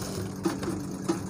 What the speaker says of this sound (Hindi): और पाइपिंग की जड़ में सिलाई लगा दें।